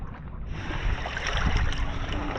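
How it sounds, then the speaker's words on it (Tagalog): A boat reversing off a beach in Tingloy, Batangas: its engine churns with rushing water and wind buffeting the microphone, a steady close rumble throughout. "umatras na yung bangka"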